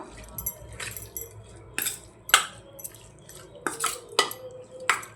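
Chicken keema being stirred in a pan, with a spoon scraping and clinking against the metal in irregular close, fairly quiet strokes.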